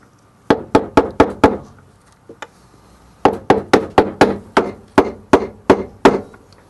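A bolt taps a front-load washing machine bearing with sharp, hollow knocks: a quick run of five, one faint tap, then a steady series of about ten more, close and clear.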